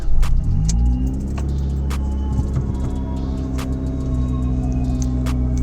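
A car engine catches and settles into a steady, rough idle, loud and close throughout, with a few light metallic clicks like jangling keys and no speech.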